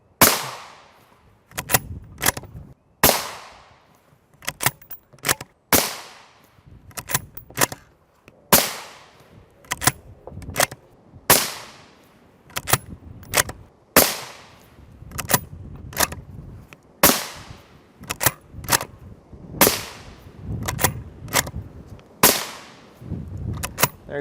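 Rifle shots of 5.56 ammunition, M855A1 and M193 rounds, strike a Highcom 3S9M Level III++ armor plate in a long, evenly spaced series of sharp, loud cracks. Each crack rings out and decays before the next one.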